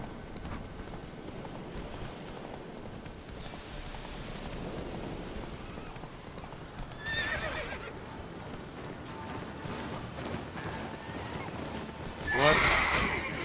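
Horse Roach from The Witcher 3 gives a couple of whinnies over a steady rain-like wash of hoofbeats and ambient noise, the loudest neigh bursting near the end.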